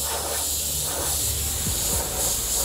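An airbrush sprays opaque black paint in a continuous close hiss that holds steady throughout, with faint low rumbling underneath and no talking.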